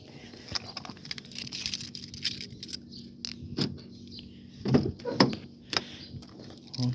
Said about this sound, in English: there's enough juice in the battery to unlock the doors